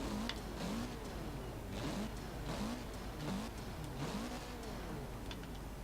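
Mitsubishi car engine in the racing game Forza Horizon 4 revving repeatedly, rising and falling in pitch in quick cycles, loud and close with a steady mechanical drone underneath and no talking.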